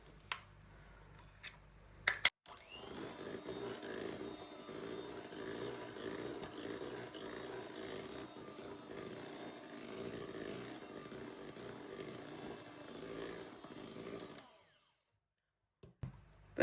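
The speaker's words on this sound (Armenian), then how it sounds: "ամբողջական կրեմին և միքսերով խառնում ենք" Electric mixer whipping pale pink cake cream, a steady faint whirring buzz that runs for about twelve seconds with small clicks at the start and end.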